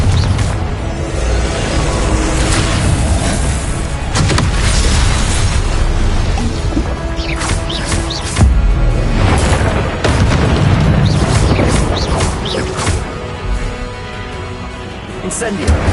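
Confringo blasting spell explosions: repeated deep booms and bursts in quick succession, loud and close over a busy rumbling background, with spoken voices among them.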